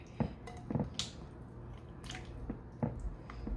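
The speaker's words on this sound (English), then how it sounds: "I'm just going to kind of take this marinade and just get the meat all in it." Hands work cut steak through a wet marinade, making soft, close squelching and squishing sounds in irregular bursts, with faint dripping between squeezes.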